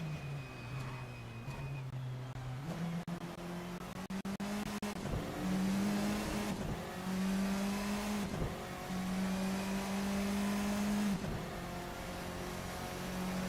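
Formula 4 race cars head out onto the track at Fuji, engines revving and shifting up through gears in repeated rising pulls, loud and close with no talk.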